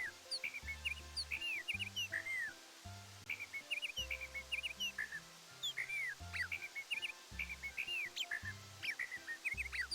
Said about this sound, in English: it's bird noises, but it just sounds natural